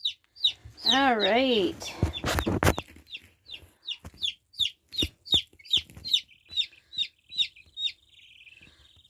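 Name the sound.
newly hatched chicks cheeping in brooder box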